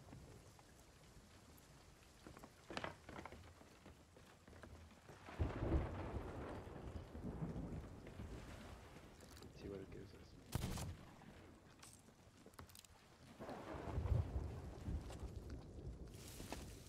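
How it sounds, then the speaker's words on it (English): Rain and rumbling thunder in the pirate video game Sea of Thieves, a steady patter of rainfall broken by several deep thunder cracks and rolls, with players talking quietly over the storm. "I think it's because it's raining though"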